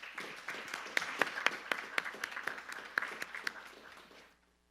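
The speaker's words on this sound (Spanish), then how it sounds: "Recibámoslo con un aplauso." Audience applause at a legal conference on Mexican trade relations, a room of many hands clapping at a steady rhythm with sharper individual claps, quiet overall, fading out at the end.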